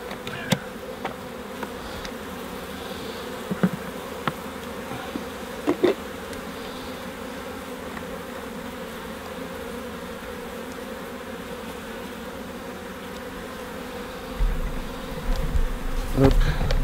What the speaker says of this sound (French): Je vais fermer ma ruche et libérer les abeilles.